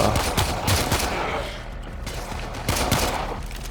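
Pistol gunfire in the video game Warframe, rapid loud shots blending into a dense volley over game ambience, with a brief lull midway before firing resumes.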